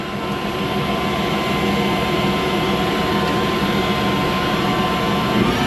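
Air blower on a four-row planter running steadily, a loud, constant broadband whoosh and engine drone with no breaks, close by and alone.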